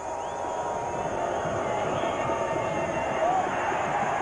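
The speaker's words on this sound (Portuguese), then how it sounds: "A torcida do Botafogo é grande, Palmeiras marca a presença, é boa a torcida do Palmeiras" Large football stadium crowd of Botafogo and Palmeiras supporters at a 2001 Brazilian championship match, a steady dense roar of voices filling the whole stretch, with a brief whistle-like rise near the end.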